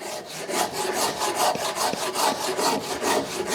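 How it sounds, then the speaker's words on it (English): A Shinto Japanese saw rasp scrapes across oak while carving a bowl, in steady rhythmic back-and-forth strokes, about four per second, loud and close with no talking. "a Shinto Japanese saw rasp, and they're fantastic for carving"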